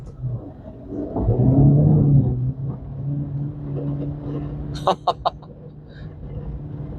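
A 2023 Acura Integra's engine revs and accelerates hard through snow on stock tires, a rising low drone that swells and then eases, followed by a few brief sharp clicks near the end.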